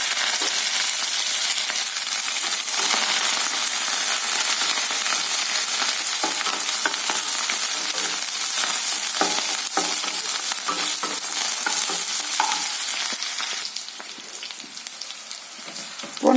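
Small onions, green chilies and curry leaves frying in hot oil for a Tamil ridge gourd curry, a loud, dense, steady sizzle close by with occasional stirring clicks and no talking.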